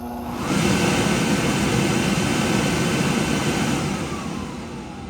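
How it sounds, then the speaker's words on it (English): An oil burner with a suspected failing fuel pump fires up into a loud, steady, close roar that holds evenly and eases slightly at the end. "we're going to turn the burner on"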